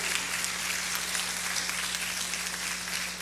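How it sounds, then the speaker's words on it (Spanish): A church congregation applauding together, a dense, steady wash of many hands clapping at close-to-moderate distance for the full length, with no voices on top. "Démosle un aplauso al Señor"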